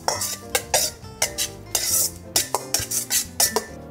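Boiled vegetables tossed in homemade Caesar dressing, with a rapid run of sharp utensil clinks and scrapes against a bowl, repeated in quick uneven strokes, close and clear with no talk.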